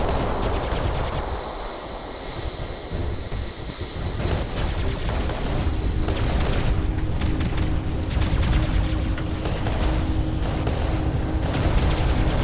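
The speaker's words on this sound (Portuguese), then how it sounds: "Soltar o tiro espacial" Continuous, dense bursts of sci-fi robot weapon fire in the game War Robots roar steadily for several seconds, loud and noisy, with sharper blasts cutting through toward the end.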